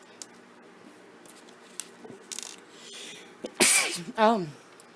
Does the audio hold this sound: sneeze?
yes